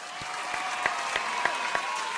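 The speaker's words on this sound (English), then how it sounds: "let's clap it up for ASP" Audience clapping steadily with a few sharper individual claps standing out, a continuous spread of applause from a crowd.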